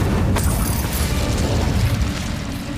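Fiery spell burst in Hogwarts Legacy on Nintendo Switch: a loud whooshing blast with a deep rumbling roar that holds for a few seconds, no voices.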